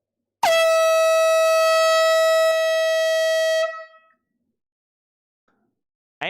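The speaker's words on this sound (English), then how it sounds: "Air horn. Air horn." A single loud, sustained air horn blast with a bright, buzzy tone holds steady for a few seconds and then cuts off, leaving near silence.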